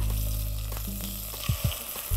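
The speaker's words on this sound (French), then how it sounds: "on ajoute nos morceaux de bœuf. Voilà. On va bien mélanger le tout. C'est parfait. Et on laisse dorer." Beef pieces browning in melted butter in a pot for boeuf bourguignon, a steady close sizzle and fry with a few louder stirring clatters near the end.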